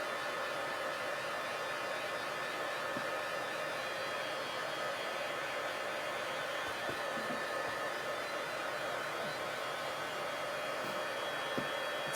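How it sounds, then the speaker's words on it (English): A heat tool blows hot air over embossing powder in a cold craft studio, a steady broadband whoosh running unbroken and close throughout, with no talking. "So we'll watch for the magic to happen with our heat tool."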